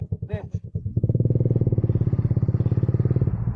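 A motorcycle engine runs up close, settling into a loud, steady, rapidly pulsing throb after a brief rough start, with a short voice near the beginning.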